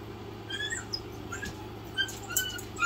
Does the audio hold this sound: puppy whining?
yes